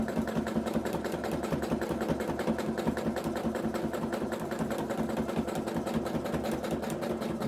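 A domestic sewing machine runs continuously for free motion stitching on fabric, giving a fast, steady mechanical chatter of needle strokes at close range with no pauses and no voices.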